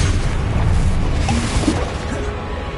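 A Confringo explosion spell bursts in the video game Hogwarts Legacy, a loud, dense booming blast with a rumbling low end that fills the whole moment and then tails off slightly.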